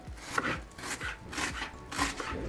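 A knife chops onion rhythmically on a cutting board, about six crisp, close strikes in steady succession, with no talking.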